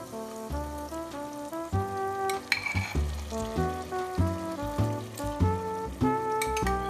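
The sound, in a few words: soaked cooked moth beans (matki) added to frying masala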